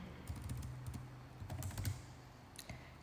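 A command being typed on a computer keyboard into a Unix terminal, soft and somewhat faint keystrokes over a steady low hum of room noise, with no speech.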